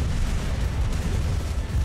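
A video game cannon fires with a sustained rumbling boom, dense and continuous low-end roar filling the whole moment, no speech.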